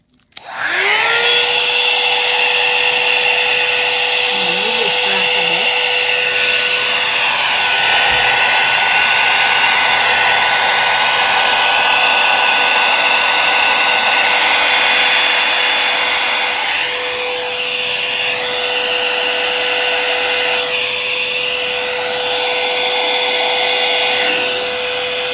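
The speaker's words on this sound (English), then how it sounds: "I'm gonna try my hair dryer." Hair dryer with a brush attachment on a cool setting blowing acrylic paint, a loud steady motor whine and rushing air running continuously from start to finish, close up.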